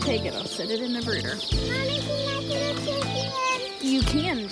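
Chickens clucking and squawking close by in a brooder area, with repeated calls and rustling throughout and a voice talking over them.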